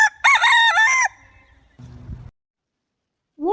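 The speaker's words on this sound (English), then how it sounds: "A cock usually crows in the morning to give a wake up call." A rooster crows once, loud and close, a clear strained cock-a-doodle-doo lasting about a second, followed by a short rustling thump and brief quiet.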